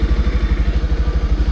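A 2022 Pulsar 150 BS6 motorcycle creeps along slowly at the clutch's biting point with no throttle, its engine thumping close and loud in a steady, even pulse of low firing beats.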